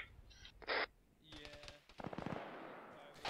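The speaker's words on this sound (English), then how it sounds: "we got shots, tracers coming in from south somewhere" In the Arma 3 video game, gunfire is heard: a few short bursts, followed by a quick rattling run of shots at moderate distance, mixed with radio chatter and voices.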